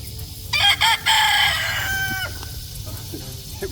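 A rooster crows loudly and close at hand, a long stretched call over a few seconds, while hens cluck softly around it in an outdoor farm setting.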